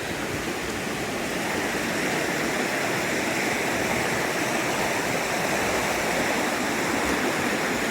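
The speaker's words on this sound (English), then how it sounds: "It looks like there's a natural spring that comes out of the ground right here." Spring water flowing out of the ground beside a wet backcountry trail in Georgia, a steady close rushing wash that stays even and continuous throughout, with no voices.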